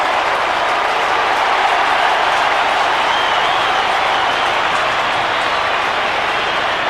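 A large stadium crowd at a 1993 AFL match between Footscray and Collingwood roars steadily and loudly after a goal kick from about 30 metres, a dense unbroken wall of cheering.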